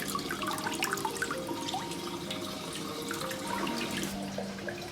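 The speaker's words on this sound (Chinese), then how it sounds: "再把汆烫过的猪头放在水中多清洗2遍，清洗干净，捞出控干水分。" A blanched pig's head being rinsed in a kitchen, with running tap water, splashing and dripping close by throughout and no talking.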